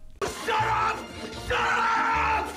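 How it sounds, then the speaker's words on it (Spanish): A woman's high-pitched, strained scream of anger from a film scene, delivered in two long, loud bursts separated by a brief dip, harsh and piercing with no other talk. "Este grito es súper femenino y es una opción interesante para mostrar la ira del personaje."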